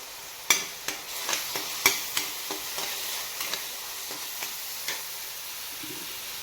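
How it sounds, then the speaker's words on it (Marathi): Masala paste sautés in oil in a pan, a soft background sizzle broken by a run of sharp clicking scrapes from a spatula against the pan, irregular and close, with no voices. "तर छान असं तेल सुटेपर्यंत वाटण आपण परतून घेऊया"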